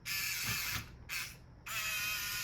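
A small 6 volt 60 RPM gear motor moves the bucket of a mini skid steer model, giving a close, high whining gear buzz in three short bursts separated by brief pauses.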